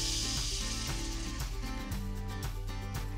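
Red wine hitting a hot pan after lamb was seared there, a steady hissing sizzle with loud music playing over it the whole time.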